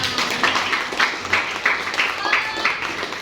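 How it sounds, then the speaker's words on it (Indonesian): A classroom of students applauds in loose, uneven bursts of clapping, with moderate volume that rises and falls in waves and some voices mixed in. "jadi tepuk tangan dong buat kita semua"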